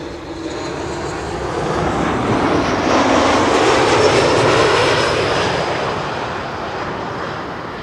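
An airliner landing at Schiphol on the Kaagbaan runway makes a loud, steady jet roar that swells to a peak midway and then slowly fades, with no voices.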